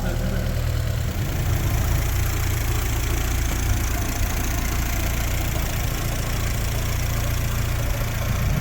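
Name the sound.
VW Golf 2 20VT turbo engine idling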